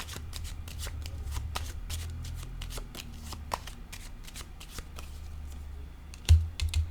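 Tarot cards are shuffled and handled in a quick run of soft papery flicks and riffles, close and steady, ending in a couple of duller taps as cards are set down on a table.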